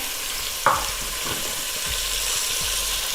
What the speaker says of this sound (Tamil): காலிஃப்ளவர் சேர்த்துட்டு 1 நிமிஷம் நல்லா வதக்கிக்கலாம்.